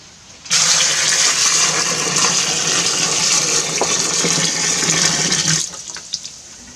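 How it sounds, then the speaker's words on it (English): A loud, steady rush of boiling water pouring into a fermenter over berries for about five seconds, close by, then tapering off into a few drips and splashes. "I'm going to hit these with a gallon of boiling water."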